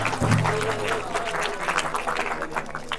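Audience clapping for an award ceremony honouring a drama troupe with trophies, steady and dense throughout at moderate loudness, with a brief low hum near the start.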